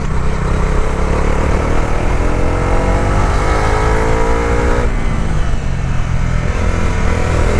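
A Bajaj Dominar 350 motorcycle engine revs steadily upward under load, its rising drone shifting gear near the five-second mark and then building again. The loud, continuous engine note fills the recording, close and throaty, with no voices.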